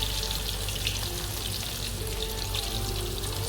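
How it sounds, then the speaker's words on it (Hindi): Frozen chicken kebabs deep-frying in hot oil make a dense, even bubbling hiss with a crackling, rain-like texture, close and constant throughout, with no voices. "तो चलें चिकन कबाब को फ्राई कर लेते हैं।"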